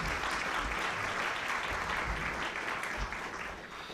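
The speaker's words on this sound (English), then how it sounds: "now you can certainly give your applause" Audience applause at a National Press Club luncheon, a dense, steady wash of clapping filling the room for the full four seconds and easing slightly near the end.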